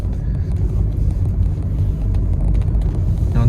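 A 2016 Honda HR-V with an eCVT climbs a very steep, nearly 45-degree incline in first gear, its engine a continuous deep, loud rumble that strains steadily throughout, with no talking.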